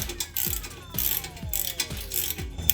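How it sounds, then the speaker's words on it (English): A hand ratchet clicks in short repeated bursts, roughly twice a second, as it loosens the clamp on a Dodge Charger exhaust tip, close up and fairly quiet, with no talk. "Looks like I got to undo the clamp a little bit more here."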